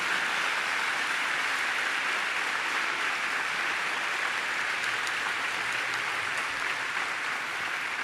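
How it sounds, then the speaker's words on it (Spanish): Sustained loud applause from a church congregation, dense steady clapping throughout like heavy rain, with no talking. "Si vas a darle un aplauso, dáselo fuerte al Señor"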